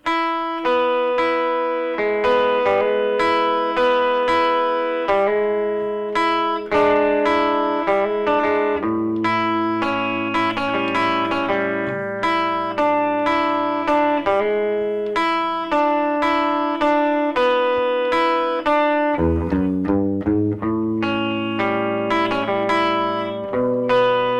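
Electric guitar strums the chorus chords of a song with effects-laden tone, steady rhythmic chord changes throughout, loud and upfront with no voices.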